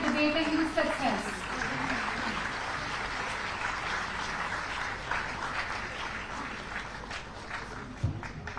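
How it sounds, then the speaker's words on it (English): Audience applauding at a debate event in India, a broad sustained wash of clapping that fills the whole stretch and eases slightly toward the end, with a loud accent near the close. "Let's also have a huge round of applause for our participants"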